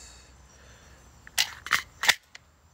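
A handgun is handled up close, its mechanism giving three sharp metallic clicks in quick succession followed by a fainter fourth click, over a quiet background.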